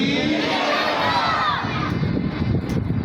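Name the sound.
mosque congregation shouting religious slogans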